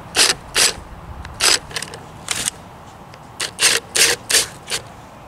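Spring compressors being tightened on Kei truck leaf springs, giving a series of short, loud ratcheting and scraping strokes in uneven bursts with quiet gaps between them, close up and without talking.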